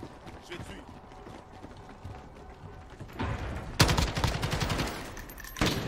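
Gunfire crackles in a Call of Duty: Modern Warfare team deathmatch, starting as faint scattered pops and then rising into loud, rapid automatic bursts near the end, with a voice talking over parts of it.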